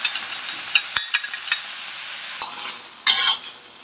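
Banana blossom being stir-fried in a pan, with scattered utensil clinks and scraping against the pan over a soft sizzle, ending in a louder burst of stirring.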